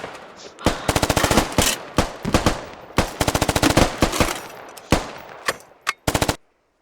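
Machine gun fire in the video game Squad: long rapid automatic bursts separated by short gaps, then several single shots and a final short burst, loud and close, with no talk over it.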